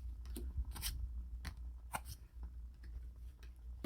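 Soft close handling of tarot cards, light taps, slides and faint clicks as the cards are shuffled and separated, quiet and intimate against a low background hum.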